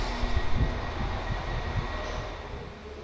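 A passenger train running on the line near Coventry, a steady low rumble with rhythmic wheel thumps and faint squeals, heard from inside the carriage with no talk.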